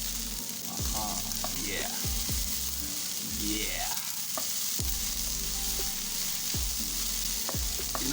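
Vegetables sizzle and crackle as they are stirred in a frying pan for a stovetop pizza, with steady frying noise, repeated scraping stirs and a brief voice.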